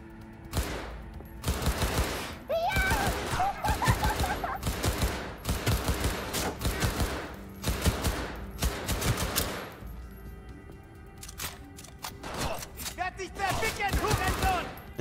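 Rapid automatic gunfire in Cyberpunk 2077 comes in dense, repeated bursts with short pauses between them, loud and close, with a player talking over parts of it.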